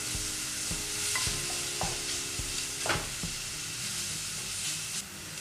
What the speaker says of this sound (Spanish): Aquí tenemos aproximadamente dos plantas de cebolla de verdeo, solamente la parte verde. Y comenzamos a rehogar.